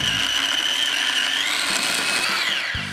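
A mini blender whirring as it blends streaky bacon with breadcrumbs into fine crumbs, loud and close, its high motor whine rising in pitch midway and cutting off abruptly just before the end.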